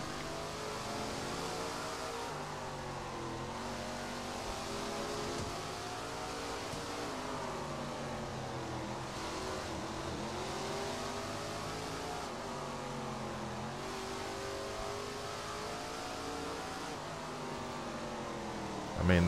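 Super late model race car engine roaring steadily in a racing video game, a loud sustained drone that swells and fades as the car laps, with a brief louder burst at the very end.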